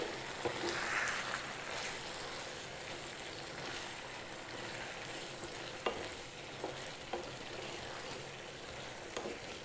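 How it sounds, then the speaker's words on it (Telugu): Yogurt is stirred into ginger chicken frying in a pan, with soft sizzling under repeated scraping and knocking of a spoon against the pan, close and fairly quiet. "పెరుగు వేసుకొని బాగా కలపాలి"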